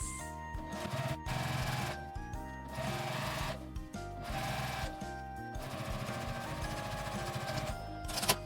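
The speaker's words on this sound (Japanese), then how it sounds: "横に引くようにして縫います。" A sewing machine stitching a zipper onto a box pouch, running in fast mechanical bursts separated by short pauses, close and clear with no talk.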